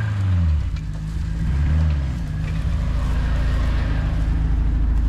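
A 1981 Ford Courier work truck's engine pulls under acceleration in second gear, a loud, close, rumbling drone that rises steadily over a few seconds.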